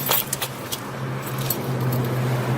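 Keys jangling as they are pulled from a pocket beside a Merkur XR4Ti car, a few quick bright metallic clinks near the start followed by softer rattles, over a faint low hum.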